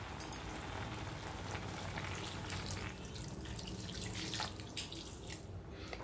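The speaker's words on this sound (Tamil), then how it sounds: "இப்போ நம்ம கறி வேகறதுக்கு தேவையான அளவு தண்ணி ஊற்றிக்கலாம்" Water pouring into a pot of curry on the stove, a steady running splash with a faint sizzle beneath, continuous and close for several seconds.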